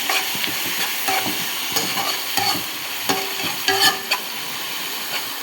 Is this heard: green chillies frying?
yes